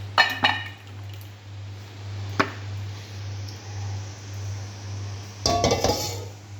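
Matar paneer served into a dish, with metal utensils clinking and scraping in a few short bursts near the start and end, over a steady low hum.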